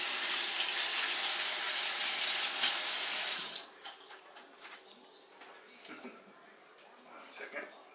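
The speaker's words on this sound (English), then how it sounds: "what you need to do is wash your hands first" Hands washed under a running kitchen tap, a loud steady gush of water for about three seconds before it shuts off, followed by quieter handling sounds and faint clinks.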